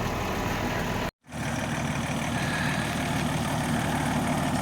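A T-150 tractor fitted with a MAN D0826 engine rumbles steadily nearby, with a deep idling drone and mid-range mechanical hum. There is one sudden brief cut to silence early on before the engine noise resumes evenly.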